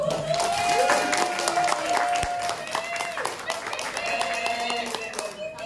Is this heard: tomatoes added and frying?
no